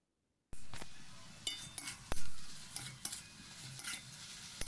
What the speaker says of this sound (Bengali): পেঁয়াজ, রসুন, কাঁচা লঙ্কা দিয়ে শাকটাকে ভেজে নিচ্ছি।